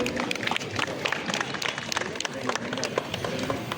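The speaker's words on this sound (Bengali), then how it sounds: "আমরা করতালি দিয়ে তাদেরকে অভিনন্দিত করি" An audience claps for bicycle stunt show performers at an outdoor event, a dense, steady patter of hands with crowd noise and voices mixed in throughout.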